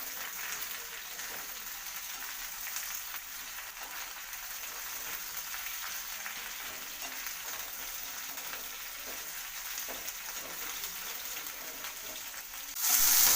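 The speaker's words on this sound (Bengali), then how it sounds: "ভেন্ডিগুলোকে ভালো করে আমি ভেজে নেবো।" Okra sizzles steadily in hot oil in a pan as it is fried for bhindi masala, a constant dense crackle with no voices until a louder burst near the end.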